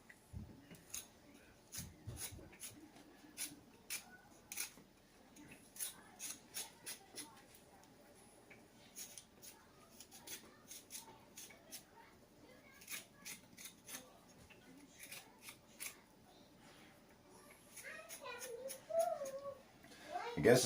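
Fresh ginger root scraped with a metal spoon to remove the skin, producing a quiet, close series of short rasping scrapes in an irregular rhythm.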